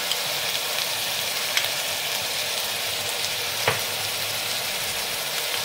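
Chili paste hits hot oil in a pan of Bengali fish curry with onion paste and turmeric, giving a steady, close sizzle that runs unbroken, marked by a couple of brief utensil clicks.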